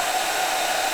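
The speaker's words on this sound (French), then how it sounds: "on va prendre un sèche-cheveux et on va tester ça directement" A hair dryer blows steadily on a notebook label, a loud continuous broadband whoosh with no pauses and no voices.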